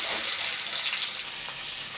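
Onions fry in a small amount of oil, a little over 50 grams, giving a steady, close hiss of sizzling that holds evenly with no talking.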